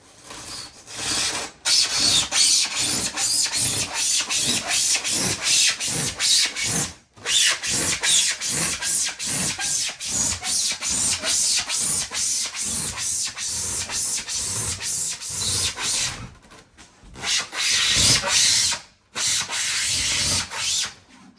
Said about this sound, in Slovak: Takže pílime.